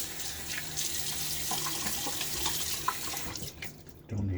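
A tap runs steadily into a sink as a razor is rinsed, close and moderately loud, the splashing ending abruptly near the finish.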